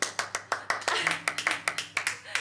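A small group of people applauding in a quick, steady rhythm of sharp claps for a few seconds, with faint voices underneath.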